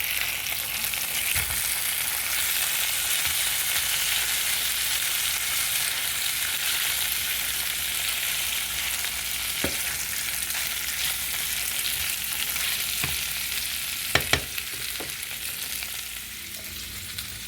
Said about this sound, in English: we will go ahead and check on these lamb chops. They're starting to cook up nicely.